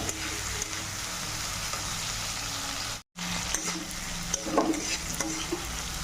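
Boiled potatoes sizzle in oily fried spice paste for a quick potato and egg curry, a continuous close frying hiss with brief stirring scrapes and a short cut midway.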